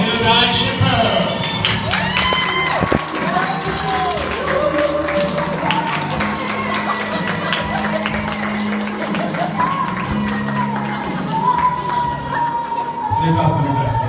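Wedding guests applaud and cheer as someone is introduced: sustained clapping from a crowd, scattered whoops and shouts, with voices talking and calling out over it throughout.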